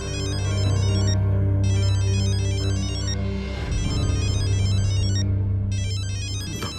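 A phone ringtone chimes loudly in repeating bursts with short pauses between, a steady electronic tone sounding alone.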